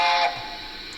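The small steam whistle of a Dapol A4 model locomotive gives a short, steady hissing tone that quickly fades to a softer continuous hiss.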